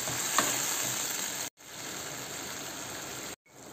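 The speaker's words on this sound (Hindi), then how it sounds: "इसको अच्छे से तड़के के साथ मिक्स कर लेंगे।" Boiled apple chutney is stirred into a hot tempering, giving a steady sizzle broken by two brief silent gaps, with no talk.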